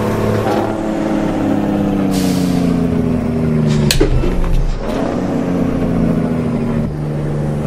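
A Kenworth W900 truck engine in American Truck Simulator rumbles loudly and close with shifting revs, punctuated by brief hissing air-brake bursts and clunks along the way.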